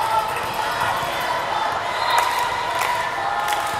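A team bench cheers after a net-ball serve in a varsity girls' volleyball championship match, a sustained crowd of voices in a gym with a few sharper shouts.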